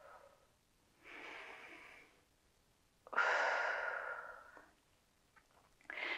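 Slow, deep breaths during a prenatal yoga stretch come close and soft: a long exhale, then a stronger breathy outbreath that trails off, and the start of another.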